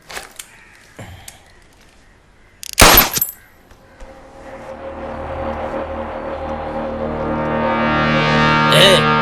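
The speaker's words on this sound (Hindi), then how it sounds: "उसे गोली मारा भाई" A single loud, sharp gunshot rings out in a Hindi movie scene, preceded by a few scattered clicks and brief sounds. A low, swelling music drone follows the shot and grows steadily louder.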